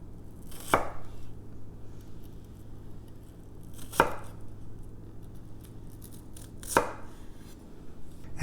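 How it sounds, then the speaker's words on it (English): A knife chops down through a thick onion slice on a cutting board, three sharp, separate cuts spaced a few seconds apart over a low steady background hum, with no talking. "And start chopping down"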